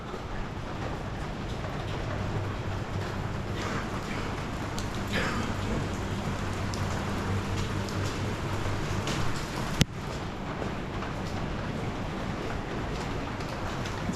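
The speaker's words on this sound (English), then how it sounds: "Kind of a rainy day today." Rain falls steadily on a street in Macau, a constant soft hiss of drops on pavement that holds evenly throughout, with a single sharp click near the end.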